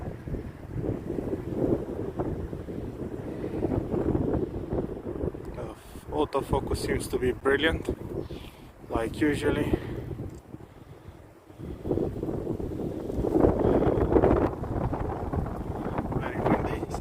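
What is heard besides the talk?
wind blowing outdoors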